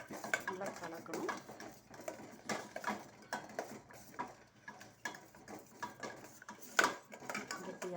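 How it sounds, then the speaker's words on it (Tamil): A utensil stirs a thickening handmade soap mixture in a container, producing irregular scraping strokes and light clinks close by, steady throughout with no pauses. "எல்லாமே நல்லா மிக்ஸ் பண்ணணும், விடாமல் நல்லா கலக்கணும்"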